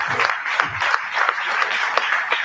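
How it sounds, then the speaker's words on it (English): Conference attendees at a national labour event applaud the minister with a full, steady round of clapping, close and fairly loud, with faint crowd murmur underneath. "Let's give the minister another round of applause."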